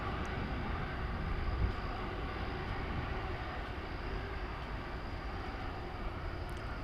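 Steady roar of a Qantas airliner, Flight 8 bound for Sydney, at DFW Airport, a loud continuous broadband engine rumble holding level for several seconds with no voices.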